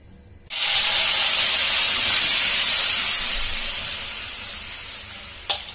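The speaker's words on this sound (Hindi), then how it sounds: "पहले ऑयल डाला था कढ़ाई में, फिर पेस्ट डाल दिया।" Vegetable puree paste hits hot oil in a kadhai, bursting into a loud, sudden sizzle that settles into steady hissing frying, slowly fading, with a brief clatter near the end.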